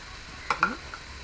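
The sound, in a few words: stirring spice powders in a pan so they don't burn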